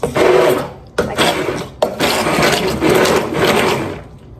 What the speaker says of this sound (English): If you don't have one of these immersion blenders, or some people call them stick blenders, these things are great.